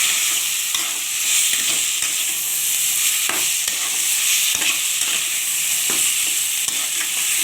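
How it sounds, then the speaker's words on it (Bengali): Chicken stirred into browned onion in a pan for a poppy-seed chicken kosha, 400 grams of chicken: a steady close sizzle with repeated spatula scrapes and stirring knocks, no talking. "এরপর আমি চিকেনটা দিয়ে দিলাম। এর সঙ্গে চিকেনটা কষিয়ে নেবো ভালো করে।"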